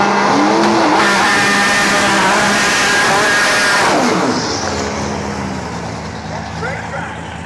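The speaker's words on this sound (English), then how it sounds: "We got Trevor coming up next in his Jotech GTR." Jotech GTR drag car making a run at a drag strip, a loud roaring engine with rising gear-change tones that fades after a few seconds as the car pulls away.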